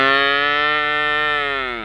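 A cow in a grassy paddock gives one long, loud, steady moo of nearly two seconds close by, tapering slightly at the end, with no voices around it.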